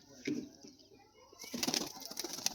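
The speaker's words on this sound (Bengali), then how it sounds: "পায়রা ছেড়ে দেখাচ্ছে দেখো, এ পায়রা কিরকম উড়বে" A released pigeon of a long-bodied breed takes off with its wings tied, giving a brief burst of close, rapid wing flapping, then a longer run of flapping and rustling as it flutters away.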